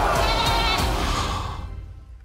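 A goat gives a loud, wavering bleat that trails off and fades out, heard alone and close.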